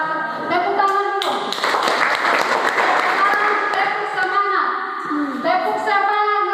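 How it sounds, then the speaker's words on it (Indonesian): A class of seventh-grade students claps hands together in a classroom, a loud dense burst of clapping in the middle, with children's voices and chanting before and after it. "tepuk tangan dulu"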